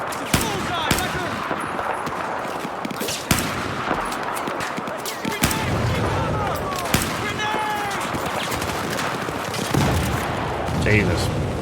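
Dense Battlefield 4 battle gunfire: rapid bursts of automatic weapons and sharp individual shots with booming impacts, loud and continuous, with voices shouting over it.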